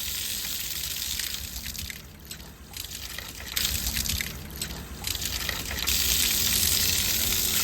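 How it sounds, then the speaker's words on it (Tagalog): Water pump-fed faucet running with a continuous, hissing gush, its splash level shifting slightly as the flow steadies, fairly close and without voices. "continuous na yung flow ng tubig papunta or dire-diretso na yung tubig na nakukuha ni water pump"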